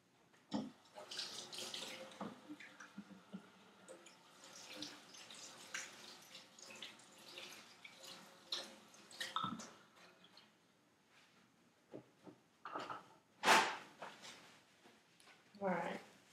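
Water from a running tap splashes and trickles as hands are rinsed at a sink during a nail-care routine, irregular gushes and drips close by with quiet moments between.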